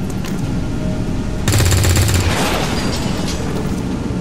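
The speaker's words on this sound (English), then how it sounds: "I have Lilly also fire at the same target" Rapid automatic gunfire bursts from a soldier in the XCOM video game, a loud dense rattle in the middle of the clip over constant game noise, with no talk.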